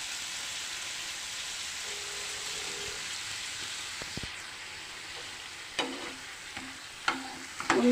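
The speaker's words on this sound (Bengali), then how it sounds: "সরষার গুঁড়ো আর শুকনো লঙ্কার গুঁড়ো দিয়ে পেঁয়াজ ভাজাটার সাথে নাড়াচাড়া করতেছি।" Onions frying with mustard powder and dried chili powder in a pan for a Katla fish dish, a constant close sizzle with scraping stirring strokes that grow louder toward the end.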